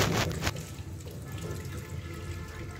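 Tap water running steadily into a sink while eggs are soaked and washed, a near, even rushing flow with a louder splash at the start.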